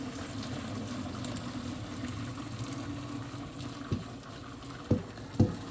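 Turkey broth poured through a strainer set above a colander, a steady liquid rush and trickle for several seconds, closing with a few sharp clanks and knocks near the end.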